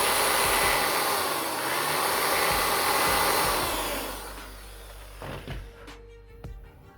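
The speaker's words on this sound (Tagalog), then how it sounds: "gamitan natin ng barena para palakihin natin yung butas" A power drill enlarges a bolt hole for a belly pan on a Sniper 150 motorcycle, a loud, close, steady whine running several seconds before winding down, followed by a few short knocks.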